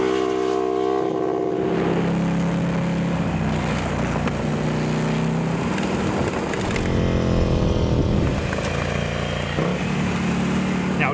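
Ducati Scrambler motorcycles ride single track in the Alabama Hills, engines droning loudly and steadily with pitch rising and falling as they rev and shift, close throughout, with occasional voices beneath.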